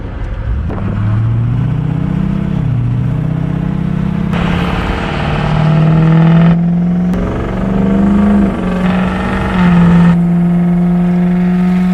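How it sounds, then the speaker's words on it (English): Turbocharged car with a cold air intake accelerating hard on a highway at about 12 PSI boost, loud engine drone climbing in pitch through several gear shifts, steady and close, with no talking. "I'm gonna drive now out on the actual highway, really open it up here"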